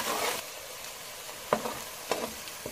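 Garlic, ginger and green chili fry in a pan with a soft, steady sizzle, broken by a few quick stirring scrapes, quiet and close.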